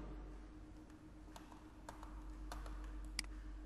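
Faint computer keyboard clicks, a scattering of separate key presses for a Ctrl+Z undo, sounding sparse and irregular over a low steady hum in a quiet room.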